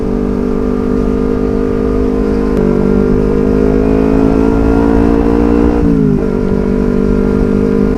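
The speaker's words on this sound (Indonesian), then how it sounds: "karena kita pakai knalpot racing, jadi suaranya ya lumayan kenceng" A motorcycle fitted with a loud racing exhaust idles and revs on a quiet Saturday-night street in Surabaya, a steady throaty drone that swells and shifts pitch twice, close and loud with no talking.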